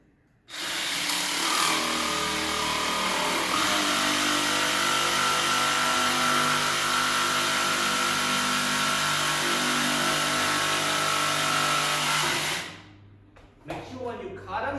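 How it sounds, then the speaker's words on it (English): A jigsaw cuts through rigid stone composite flooring in one loud, steady, buzzing run lasting about twelve seconds, then stops abruptly, followed by brief handling noises. "you can always use a jigsaw."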